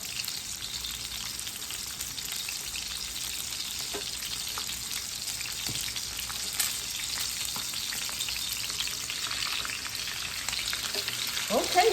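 Salmon fillet frying skin-side down in a hot pan, a steady, dense sizzle holding for the whole stretch with scattered pops and crackles, close and fairly loud, with no talking.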